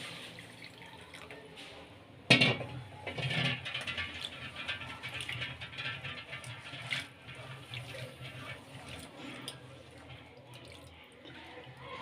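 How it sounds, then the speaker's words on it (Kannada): Warm water running and splashing over fresh green pigeon peas being washed for a winter palya, a sudden loud splash near the start, then steady close pouring and trickling that slowly fades. "ಈಗ ಹಸಿ ತೊಗರಿಕಾಯಿಗೆ ಬೆಚ್ಚಗಿರೋ ನೀರು ಹಾಕ್ಕೊಂಡು ತೊಳ್ಕೊಳ್ಳೋಣ"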